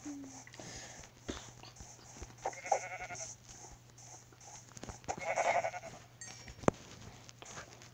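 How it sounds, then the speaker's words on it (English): Sheep in Minecraft bleat several times, short nasal calls at moderate loudness spread across the clip over a soft game background with a few brief clicks. "Sheep, sheep, sheep, sheep,"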